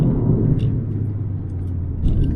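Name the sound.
sports car engine rumble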